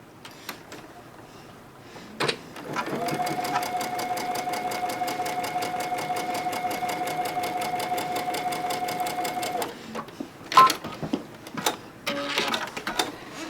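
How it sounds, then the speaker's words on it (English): A sewing machine runs steadily for several seconds stitching a seam on a quilt block, its rapid even needle rhythm starting and stopping cleanly, followed by a few handling clicks. "And again, we're going to sew down that line."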